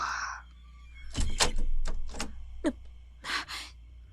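A door thud outside, as an audio drama effect, comes as a run of dull knocks and bumps, several separate hits spread over a few seconds, with a breathy gasp at the start.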